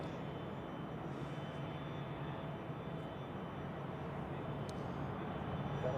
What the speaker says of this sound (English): So, what do we have on the runway? An A220 of Swiss.